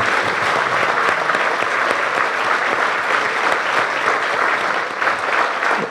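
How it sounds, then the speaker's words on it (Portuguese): A seated audience at a public book talk and discussion event in Porto gives a dense, sustained round of applause that holds steady and loud for several seconds without a break. "Uma salva de palmas para ele."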